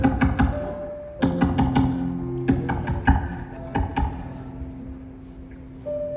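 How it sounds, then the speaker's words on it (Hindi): Repeated knocking on a door, heard as several quick bursts of sharp raps separated by short pauses. A faint tone sits under the knocks, and the knocking is close and fairly loud. "बार बार दरवाजा खटखटाने के बाद आखिरकार मानव दरवाजा खोलता है।"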